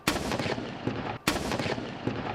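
Ceremonial cannons fire a 21-gun salute at an independence anniversary celebration in Côte d'Ivoire: two loud, sharp booms about a second apart, each followed by a rolling, echoing decay.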